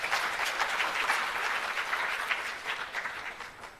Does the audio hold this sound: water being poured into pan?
no